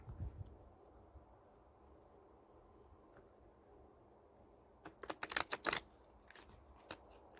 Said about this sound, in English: I don't have a good surface to shuffle here.